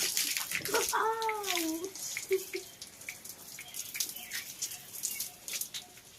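Water splashing and trickling while hair is washed and shampooed, close and fairly soft, with a brief whistling tone early on and scattered drips and rinsing sounds.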